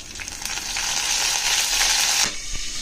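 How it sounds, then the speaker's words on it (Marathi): Curry leaves hit hot oil already crackling with mustard seeds and cumin, bursting into a loud, continuous sizzle that fades quickly near the end, with a few sharp pops close by. "जिरे तडतडले की आपल्याला कढीपत्ता घालायचा आहे."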